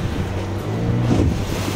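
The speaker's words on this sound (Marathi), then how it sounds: "लाटा आहे बघा कसे येतात बघा" Arabian Sea waves roll onto a beach on the Konkan coast, a steady loud wash of surf mixed with wind rumble on the microphone, continuous with no talk.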